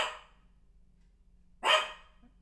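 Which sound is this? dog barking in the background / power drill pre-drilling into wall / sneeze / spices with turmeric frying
dog barking in the background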